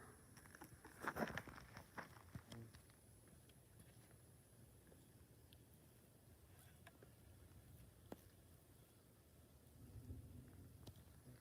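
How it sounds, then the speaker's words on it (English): Low rumbles of distant thunder roll through a rainy night outdoors in New Brunswick, Canada, with scattered raindrops and light knocks around an insect-attracting light setup; faint overall, strongest near the start and again toward the end. "I hear some thunder"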